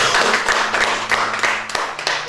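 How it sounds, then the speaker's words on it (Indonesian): Audience clapping hands in a talk-show setting, a small group producing scattered, fairly close claps in an uneven rhythm, with a low background hum. "Tepuk tangan dong."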